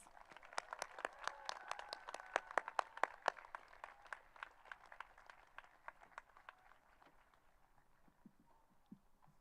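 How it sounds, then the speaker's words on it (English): Scattered clapping from a small crowd at a college commencement, dense at first and gradually thinning out and fading toward the end. "Please join me in another round of applause for these amazing professors."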